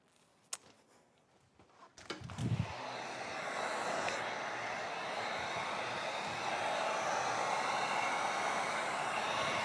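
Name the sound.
heat gun blowing hot air while applying window tint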